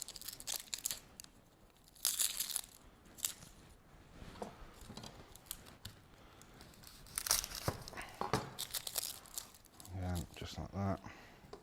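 Dry onion skins crackle and tear as outer pieces are peeled off by hand for brisket chili, close, quiet crinkling bursts in irregular spurts, with a voice talking between them.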